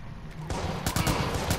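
Rapid bursts of gunfire in the video game Watch Dogs crackle in quick succession, loud and close, starting after a brief quieter moment.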